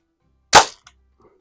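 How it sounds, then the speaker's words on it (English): A single sharp crack from a Crosman M1 carbine air rifle fired as a practice shot, loud and close, followed by a faint small click and silence. "Let's take a couple of practice shots first."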